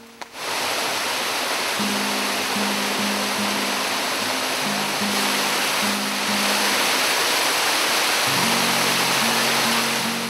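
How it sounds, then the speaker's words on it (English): Husaroro waterfall, whose Warrau name means running water, pours in a steady, loud broadband roar that fills the whole stretch, with faint low tonal hums drifting in and out beneath the rushing water. "there's a beautiful waterfall in the area"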